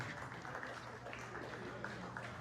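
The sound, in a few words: audience applause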